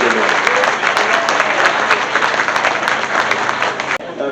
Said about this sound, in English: everybody in here should put their hands together and give this man right here a big round of applause